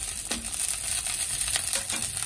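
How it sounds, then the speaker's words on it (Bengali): Raisins frying in hot oil in a pan before sabu is added, a close, steady bright sizzle with a few light clicks and taps of a spoon. "দেখো কিশমিশগুলো ভাজা হচ্ছে।"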